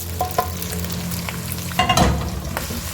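Oil sizzles and crackles steadily in a pan as a chili tempering is added to shinwari chicken, with a brief burst of stirring and spattering partway through.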